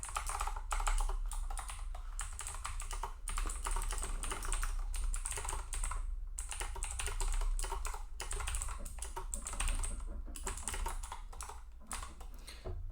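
Continuous typing on a computer keyboard with rapid, close key clicks and brief pauses, and a steady low hum underneath.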